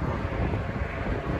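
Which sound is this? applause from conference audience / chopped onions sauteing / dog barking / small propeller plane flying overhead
small propeller plane flying overhead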